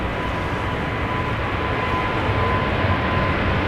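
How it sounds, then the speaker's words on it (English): A KLM Boeing 777-300 takes off at Amsterdam Schiphol, a steady, broad jet-engine roar with a faint whine, heard at moderate distance without voices. "this is KLM flight 611 already taking off to Chicago. 777-300"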